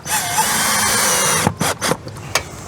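A power drill drives screws into a Grand Design RV, a loud close whine running steadily for over a second, then several short separate bursts as each screw is finished.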